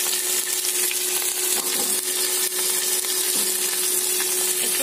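Garlic frying in a pan with cumin paste and turmeric powder added, producing a steady, close sizzle and crackle that holds even in loudness with no speech over it.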